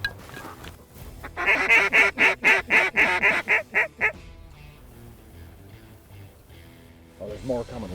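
Ducks over a cover crop field in the North Country during a hunt call in a rapid series of about ten loud, rhythmic honking quacks, followed by quieter ambience and a brief further burst of calls near the end.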